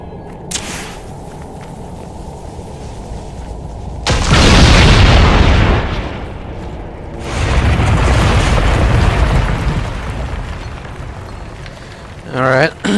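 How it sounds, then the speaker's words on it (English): Primers detonating on Gatlok in Dragon Age: Inquisition's Trespasser: two loud, booming explosions a few seconds apart, each a long roaring blast that swells and then cuts off. "Let's go explode some Gatlock."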